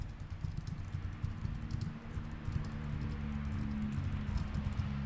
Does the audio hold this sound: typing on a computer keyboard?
yes